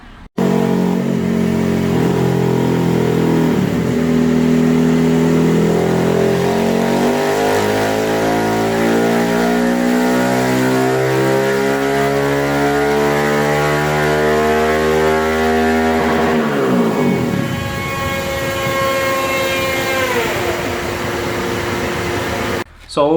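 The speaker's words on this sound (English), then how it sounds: "They threw it on the dyno and finally got to see how much power it makes." A motorcycle fitted with a Takegawa 181 kit runs hard on a dyno, its engine loud and close as it climbs steadily in pitch through the gears, then drops off sharply and revs up again before cutting out.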